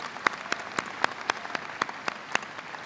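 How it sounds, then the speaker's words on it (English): At a high school commencement, one nearby pair of hands claps in an even, regular rhythm over a softer, distant crowd applause. "does deserve a round of applause"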